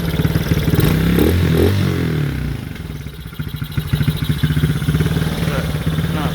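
A Chinese four-wheeler ATV engine with a cheap carburetor runs close by, starting with a loud rev that settles into a steady, slightly uneven, pulsing idle with some mechanical clatter.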